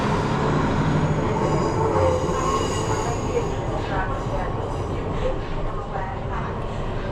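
A train passes a railway platform in the UK, a loud, continuous rumble of rolling wheels and carriages with faint squealing and clatter running steadily throughout, no voices over it.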